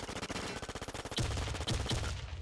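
Pistol gunfire in CS:GO: a rapid, evenly spaced string of close, loud shots, followed by a few heavier, booming reports near the end.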